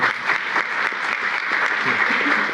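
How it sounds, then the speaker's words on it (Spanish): Dense, steady clapping from an audience at an academic panel on international justice fills the space, loud and close throughout with no pauses. "Un aplauso, por favor."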